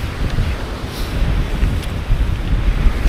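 Strong gusty wind on Baskatong Lake during a storm buffets the microphone with a loud, low rumbling roar that surges and eases unevenly throughout.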